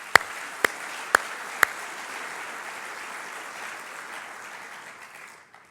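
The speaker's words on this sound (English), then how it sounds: "Ladies and gentlemen, a big round of applause to our sponsors," Convention audience applauding the sponsors: a few sharp, loud claps up front, then a softer, diffuse round of clapping across the hall that slowly fades away toward the end.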